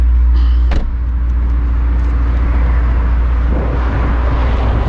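A Mercedes-AMG GT 63 S 4-door Coupe engine (630 hp) rumbles loudly and steadily, a deep continuous drone close by.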